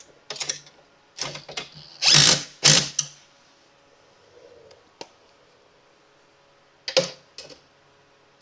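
Screws are tightened on the legs of a Harbor Freight Titanium welding table, with short ratcheting bursts and a few louder whirring spurts, separated by quiet gaps and a couple of isolated clicks.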